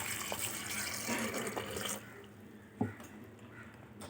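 Water poured into dal for cooking in a Tamil kitchen: a soft, steady rush of flowing liquid for about two seconds, then quiet with a single small splash or clunk.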